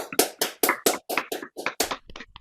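Clapping at a magic society meeting comes as a quick, close run of about a dozen sharp hand claps in steady rhythm, with no voices over it.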